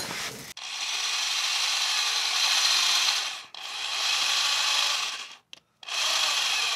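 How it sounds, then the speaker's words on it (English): A drill whines steadily in three long bursts, stopping briefly between them, a harsh grinding as a 1/4-inch bit with cutting oil bores into a metal driveline shaft, with no voices. "We're going to start out with the 1/4" drill bit, put a little bit of cutting oil on the drill bit"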